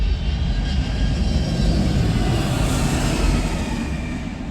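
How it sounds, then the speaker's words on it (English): Airplane passing overhead near LAX airport, a loud broad roar of jet engine noise that holds steady throughout, with no talking. "hang on, airplane."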